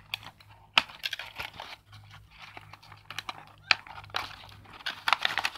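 Plastic wrapping on a Bluetooth earphone box being peeled and crinkled, faint irregular rustles and sharp crackles close by, with quiet gaps between bursts.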